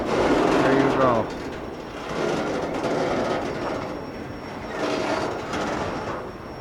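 A CSX freight train rumbles past nearby, its cars rolling by with rhythmic clacking and rising and falling surges of wheel noise, a voice talking over it.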